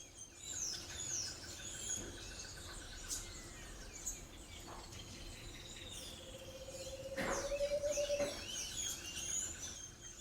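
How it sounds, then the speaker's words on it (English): Several birds chirp and tweet at a distance over a steady outdoor hush near Los Nevados National Park, Colombia, with a louder, sustained call rising near the end. "Then we spotted a few more birds."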